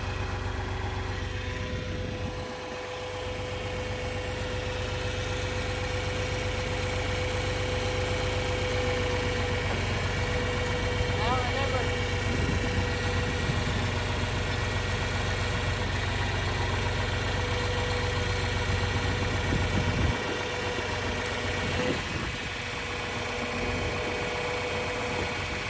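An 80-year-old tractor engine chugs steadily in first gear while pulling an old corn planter across a field, a continuous mid-to-low idle-like drone with no talking.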